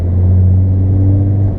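A BMW 335d diesel pulls hard in fifth gear, giving a loud, steady low rumble heard from inside the cabin with a constant droning tone and no break in power.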